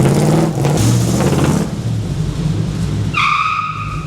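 A 1934 Ford coupe barn find with damage starts and drives off, its engine loud and close with revving that drops away, then a high whine rises near the end.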